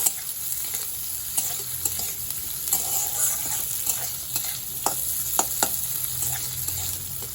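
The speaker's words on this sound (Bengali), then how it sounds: "বাদ বাকি যেগুলো রেখেছি সেগুলো দিয়ে দেবো সব কিছু আবার নাড়িয়ে নেব" Leftover dal and remaining ingredients stir-fried in a pan, with a steady low sizzle and sharp scraping spoon strokes at irregular intervals, close and alone without talk.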